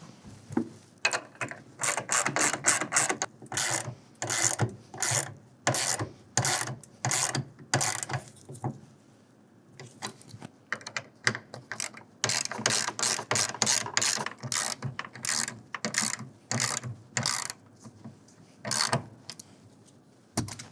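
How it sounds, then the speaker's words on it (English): A hand ratchet tightens the center clamps of a TruXedo TruXport soft roll-up tonneau cover on a pickup bed to 7 foot-pounds, its pawl clicking in rapid bursts of repeated strokes separated by short pauses, close and clear. "now we can go ahead and lock down the center clamps, also to 7 foot-pounds"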